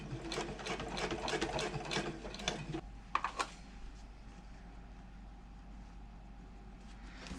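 A sewing machine topstitches a handbag in fast, steady bursts of rapid needle clatter for about three seconds, then stops, leaving quiet room tone with a couple of faint clicks.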